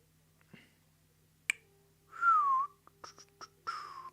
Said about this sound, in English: Don't know why I whistled there